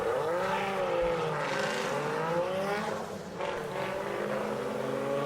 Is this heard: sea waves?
no